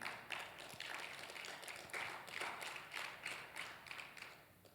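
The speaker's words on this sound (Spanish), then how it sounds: "Yo no sé si le pueden dar un fuerte aplauso al Señor." Applause from a church congregation, a soft, distant patter of many hands clapping in irregular bursts.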